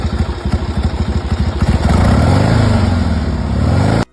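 A classic Harley-Davidson XLH 1000 Sportster with late-1970s custom modifications runs close by. Its exhaust pulses in a loping, uneven idle beat, then blips and revs into a steady, loud, deep drone.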